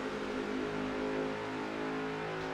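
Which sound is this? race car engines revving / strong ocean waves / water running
race car engines revving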